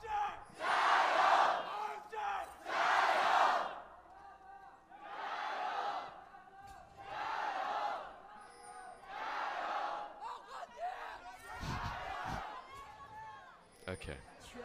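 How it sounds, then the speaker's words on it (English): A Chinese crowd at an LPL esports match between Royal Never Give Up and FunPlus Phoenix chants in loud, rhythmic surges, each swell rising and fading in regular waves across the arena. "the Chinese crowd have absolutely gone bonkers over the past couple of weeks"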